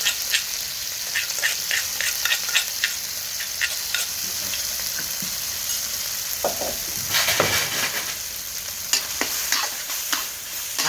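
Chili frying in hot oil, loud crackling sizzle with bursts of spattering and stirring scrapes, continuous and close.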